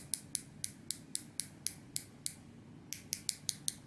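A ceramic unidirectional dive-watch bezel on a Ball Skindiver II turned in a quick series of crisp, bright clicks, about a dozen evenly spaced ones, a short pause, then several more, faint and very close.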